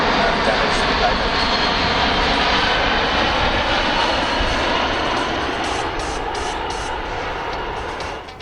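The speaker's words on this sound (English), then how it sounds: "that led to the C-17 Globemaster III. Looks like he's doing a slow pass for us." A C-17 Globemaster III jet makes a slow, heavy pass at an airshow, its engines giving a loud, sustained broadband roar that holds steady throughout and eases slightly near the end.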